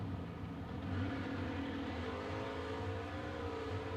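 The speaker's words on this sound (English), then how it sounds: "got two 56 Chevys on the way down the racetrack" Two 1956 Chevrolet cars race down a drag strip, a steady loud engine roar with layered tones lasting throughout, no talk.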